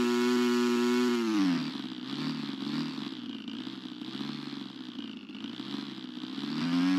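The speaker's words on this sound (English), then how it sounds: "Do a blip of throttle." The engine of an RC 3D aerobatic airplane in flight: a steady, high, buzzing drone drops and wavers for several seconds, then surges back up at the end, heard alone at moderate volume.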